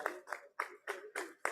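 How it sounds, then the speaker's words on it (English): Audience clapping at an awards conference honouring women, a short patter of hand claps in uneven bursts, fairly faint and a little distant, with no talk over it. "Let's continue to appreciate them with a round of applause."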